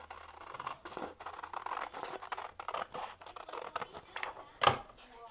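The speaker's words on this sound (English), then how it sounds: "This specific one, you want to cut off one side." Scissors cutting a printed PDF paper pattern, with soft repeated snips and paper rustling close by and a sharper crinkle near the end.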